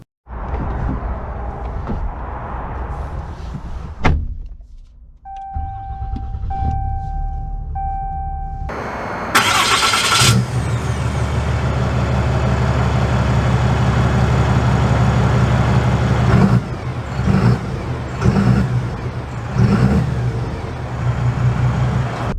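A 2022 Ram 3500 Laramie Mega Cab pickup with a high-output Cummins diesel turns over and catches with a sharp burst, then settles into a steady, close idle rumble with a few brief blips and knocks.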